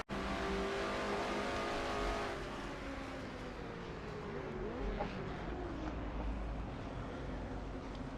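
Race car engine in a racing video game, loud and steady at first, then dropping in pitch as the driver eases the throttle through a turn, continuous with no talk.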